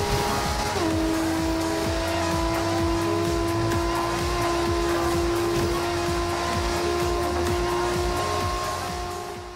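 Nissan Skyline in the Forza Horizon 2 racing game, a steady sustained engine drone with a held tonal whine that steps up once early on, loud and constant before easing slightly at the very end, with no talking.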